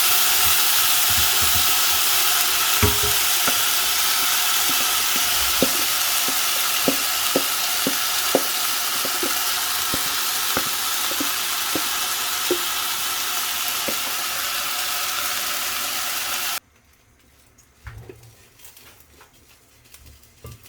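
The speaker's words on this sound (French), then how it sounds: "Je remue." Vermicelli frying in a pan for Egyptian koshari, a steady loud sizzle with light rhythmic taps of stirring, until the sizzle abruptly cuts off near the end, leaving faint kitchen clatter.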